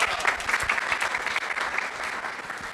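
Audience applause for a young woman at a youth-centre talk on public speaking, a steady dense clapping from the room that holds evenly for a few seconds.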